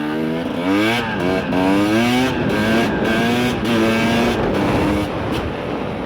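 A YCF SP3 motorcycle accelerates hard, its engine note climbing sharply through several gears with short breaks at each shift. It sounds loud and close, with no talking.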